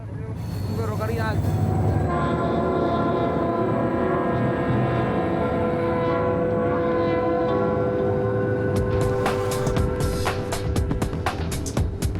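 A passenger train rumbles steadily along the rails with a loud, continuous mechanical drone and sustained tonal hum, joined near the end by clattering rhythmic clicks.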